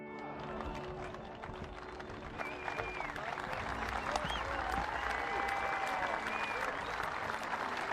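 A crowd applauds at a pole vault competition, dense clapping that swells and holds steady throughout, with cheering and whistles mixed in across the stands.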